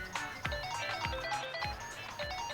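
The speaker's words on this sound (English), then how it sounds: "is that your phone?" A phone in Like a Dragon: Infinite Wealth rings with a repeating electronic ringtone, a pattern of bright pulses that repeats about every half second, loud and near.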